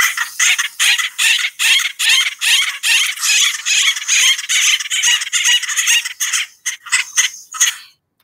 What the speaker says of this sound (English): See if you can hear the sound of this bird and how it sounds like a clown